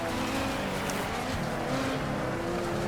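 A powerful race car engine in the video game Wreckfest roars steadily and loudly throughout, with a dense, continuous mechanical drone and no talking.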